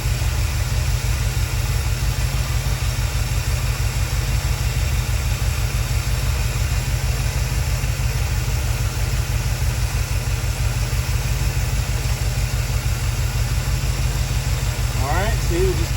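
A 1972 Buick Skylark engine idles steadily through a tune-up with timing being adjusted, its even low rumble continuous and close, with a brief higher mechanical whine near the end.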